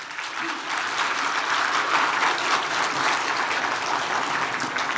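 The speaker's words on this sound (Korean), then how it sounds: "큰 박수 관계자분들께 부탁드리겠습니다." An audience at the 66th 3·1 Culture Award ceremony applauds the event staff, a dense, steady wash of many hands clapping that holds at an even level throughout.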